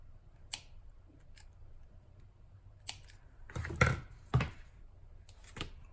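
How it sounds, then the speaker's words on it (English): Scissors snipping a few very small paper pieces for a craft envelope, quiet and close, with a handful of sharp isolated cuts and a brief cluster of louder snips near the middle against a soft background hum. "So let me just cut a few more pieces."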